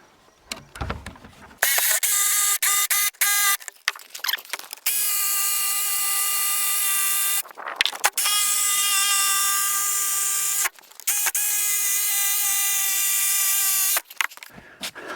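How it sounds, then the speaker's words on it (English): A jigsaw cuts through a rough sawmill board in a workshop, the loud buzzing whine running in long bursts broken by short pauses, with no talk. "The blades are just too short on the jigsaw."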